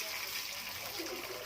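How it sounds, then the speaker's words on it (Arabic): Water pours into a pot while cooking Egyptian koshari, making a steady close gushing splash that fills the whole moment without a break. "ننزل بقى بميه كده،"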